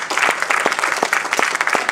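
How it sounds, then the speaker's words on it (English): A church congregation claps for the Lord after a sermon. The applause is loud and close, with sharp individual hand claps standing out in an uneven, lively rhythm. "Give the Lord a hand clap."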